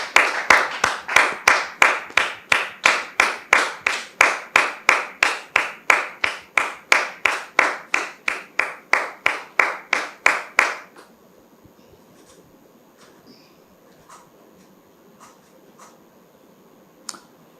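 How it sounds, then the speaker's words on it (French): A studio audience on a French-language TV talk show claps in unison to welcome a guest. About thirty loud rhythmic claps at a steady beat stop abruptly, then a few scattered faint claps follow in near quiet. "Sous vos applaudissements,"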